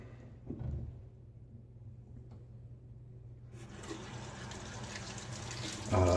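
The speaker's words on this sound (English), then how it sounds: "As I rinse that soap off my hands, I can feel the slickness." A running tap rinsing soap off hands at a sink during a wet shave: quiet room at first, then a steady hiss of flowing water that grows louder and ends in a splashier burst.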